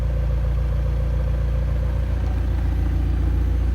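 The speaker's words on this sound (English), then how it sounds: "you won't be able to hear me over that tremendous engine" McLaren 720S Spider supercar, a 2019 show car, with its engine running at a steady low idle, a loud continuous deep rumble with faint mechanical clatter and no talking.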